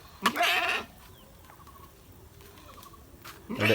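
A single goat bleats near the start with a harsh, wavering tone, followed by quiet outdoor ambience and another bleat beginning at the end.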